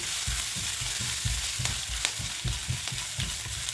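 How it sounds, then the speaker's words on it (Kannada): Finely chopped green chillies and ginger frying in hot oil for a mini aloo samosa filling, with a steady sizzle and repeated soft stirring scrapes at an even rhythm, close and alone. "ಚಿಕ್ಕ ಕಟ್ ಮಾಡಿರೋ ಹಸಿಮೆಣಸಿನ್ಕಾಯಿ ಮತ್ತು ಶುಂಠಿ ಹಾಕಿ ಫ್ರೈ ಮಾಡ್ಕೊಳ್ಳಿ."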